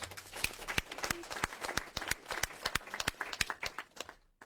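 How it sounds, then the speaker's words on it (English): Small audience at an autism committee meeting giving presenters a last round of applause, faint, sparse individual claps spaced unevenly and heard from a distance. "Let's give this group one last round of applause"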